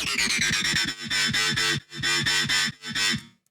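A bright, distorted EDM drop synth lead plays alone in rapid rhythmic stabs, stuttering bursts broken by short gaps, loud and close with a dense buzzy upper range over pulsing low notes.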